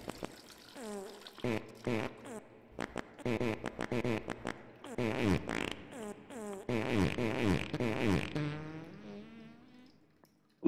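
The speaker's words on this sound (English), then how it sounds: "We just made a fart." A cartoonish game fart sounds in Totally Accurate Toilet Simulator, a series of long, wobbling, rising and falling squelches with bursts of splashy noise, fairly loud and close, ending in a drawn-out tonal squeak.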